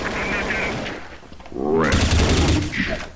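Automatic gunfire from Counter-Strike: Source rattles out in a loud, rapid burst partway through, with someone talking over the game sounds.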